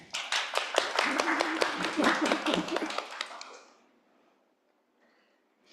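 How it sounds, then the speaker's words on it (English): A small group claps for panelists and a moderator after a careers-in-AI session, brisk close hand claps for about three seconds that fade quickly into near silence. "let us give a huge round of applause to our panelists and to our moderator"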